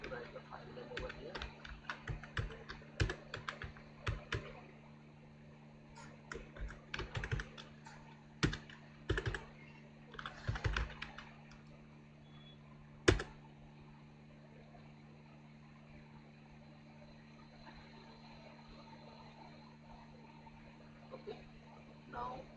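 Typing on a computer keyboard while coding a FastAPI project in Python, bursts of close clicking keystrokes over a steady low hum, with long pauses between bursts.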